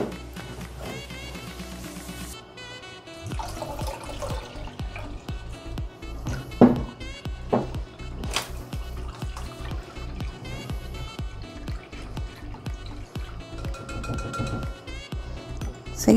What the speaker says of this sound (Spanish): Y aquí le vamos a agregar una taza más, pero de agua fría.